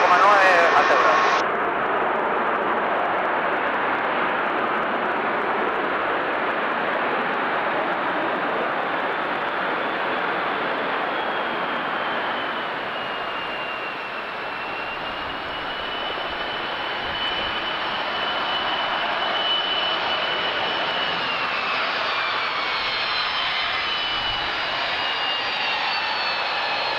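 An airplane lands at La Aurora airport in Guatemala, its engine roar loud at first, then a long, steady rumble that dips briefly and swells again as the aircraft rolls out.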